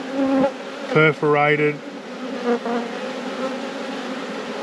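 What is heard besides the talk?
honeybees buzzing during apiary hive inspection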